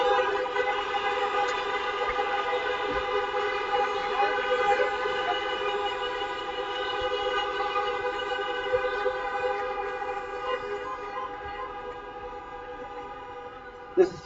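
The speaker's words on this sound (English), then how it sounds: "So how about another horn honking event?" Car horns honk together at an outdoor graduation ceremony, forming a long, steady layered blare of mixed tones from several vehicles at middle distance that holds for about fourteen seconds before a brief thump at the end.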